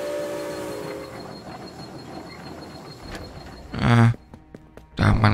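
A train ride from the video game Guardian Tales, with steady rolling rail rumble and clatter, then two loud, sharp horn blasts near the end.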